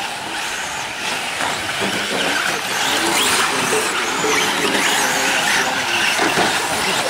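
Several 4WD short course RC trucks racing in a B main on a track, a continuous high-pitched whine of small motors with bursts of tire scuffing, steady and fairly loud throughout with no talk.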